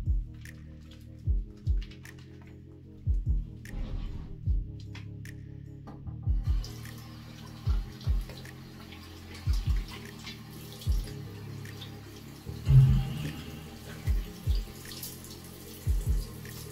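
Water runs from a tap while a shaving brush is rinsed, a soft continuous trickle near at hand broken by repeated low splashes and squishes in an uneven rhythm, with no voices.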